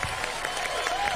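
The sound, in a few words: studio audience applause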